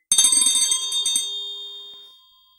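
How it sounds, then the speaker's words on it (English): A single bell rings with a rapid clatter of strikes, then the bright metallic tone rings on and fades away over about two seconds, loud and close. "He changed the subject by ringing the bell"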